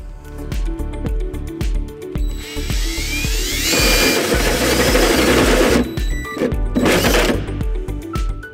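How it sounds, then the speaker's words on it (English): A power drill with a 2 1/8 inch hole saw whirs in rapid pulses, then grinds steadily as the saw bites through a Ford F-350 truck bed, loud and close, before spinning down and revving again. "take a 2 1/8 inch hole saw and drill out our hole"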